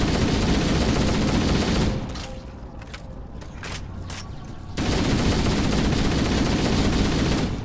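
Assault rifle fire in the video game Halo: loud, dense automatic bursts, then a short lull of mechanical clicks and single cracks before a second sustained volley.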